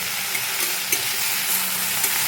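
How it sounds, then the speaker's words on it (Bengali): Dried lotia fish shutki cooks with vegetables, salt and turmeric in a pan over raised flame, producing a loud, dense, steady sizzle with light stirring scrapes close by and no talking. "ভাজা ভাজা করে নেব।"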